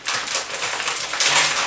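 Scissors slicing open a plastic bag of rice noodles in a home kitchen while tomato soup is being made: a close, crisp, continuous crinkling rasp that grows louder near the end.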